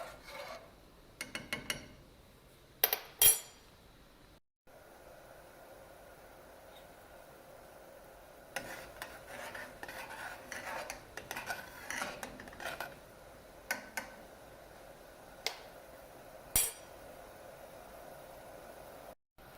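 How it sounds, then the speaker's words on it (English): Coffee syrup stirred in a pot as it boils, with quiet intermittent scraping and rubbing of a utensil against the pot, bursts of clatter early on, close and soft, no talk. "Once it's boiling, that's probably where it's a little bit more important to make sure that it's constantly stirred."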